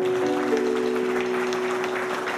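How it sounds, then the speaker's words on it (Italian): An audience applauding at an event in a prison in Teramo, a dense, even roar of many hands clapping that holds steady throughout, with a faint sustained tone running underneath. "Quindi facciamo un applauso a Rino Gaetano."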